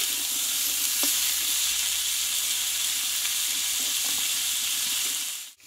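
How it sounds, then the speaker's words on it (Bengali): Ash gourd stir-fried without salt for a Bengali fish-head dish, a steady close sizzle with occasional soft spatula knocks, dropping off sharply at the very end. "তাই লবণটা না দিয়ে বন্ধুরা এভাবে একটু কষিয়ে নিতে হবে।"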